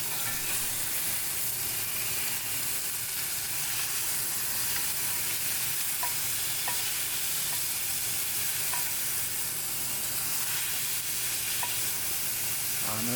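New York strip steaks sear in a dry cast iron pan with no oil, giving a steady, loud broadband sizzle that holds for the whole stretch, with a few faint clicks over the top and no talking.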